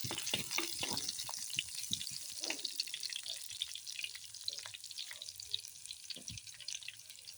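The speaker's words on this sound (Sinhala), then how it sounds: "ආයේ පොල් තෙල් රත් වුණාට පස්සේ සුදු ලූණු එකතු කරගන්න. හොඳින් කලවම් කරගන්න." Garlic frying in hot coconut oil for a village-style spicy fish dish, a steady close sizzle broken by the scrape and clink of a spoon stirring through the pan, with no talking.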